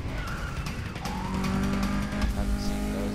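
Race cars roar in the Need for Speed Undercover driving game, racing against a Ford Escort, with a steady loud engine drone, a rising rev and tire skids layered throughout.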